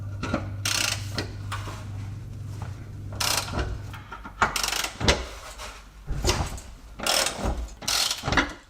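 Hand ratchet working loose the two 13 mm hex bolts on a Jaguar S-Type differential bracket during a restoration, giving bursts of close, sharp clicking separated by short pauses, alone without talk.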